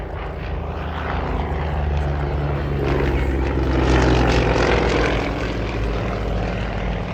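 A Yak-52 radial-engined propeller aircraft flies low aerobatics overhead, a loud continuous droning roar that swells to a peak midway and then eases slightly, with no talking.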